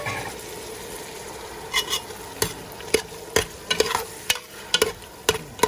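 Chicken frying in a pan for arroz caldo gives a steady low sizzle, broken by a run of sharp scraping clacks from a utensil stirring against the pan, close and without voices.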